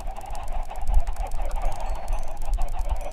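Chickens cluck in the Minecraft video game, where a flock of over 120 birds produces a steady, overlapping stream of clucks and squawks at moderate volume.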